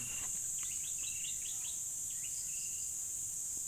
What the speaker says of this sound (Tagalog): naririnig mo yung mga huni ng ibon